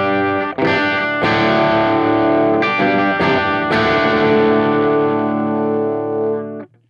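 Epiphone Riviera electric guitar on the bridge pickup through overdrive with a Marshall Plexi-style tone: loud, bitey distorted chords struck about five times, each ringing out, the last one sustaining before it cuts off.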